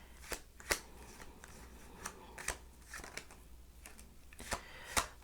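A deck of tarot cards being shuffled, a series of crisp riffling and slapping bursts spaced irregularly about every half second, close and fairly quiet with no talk.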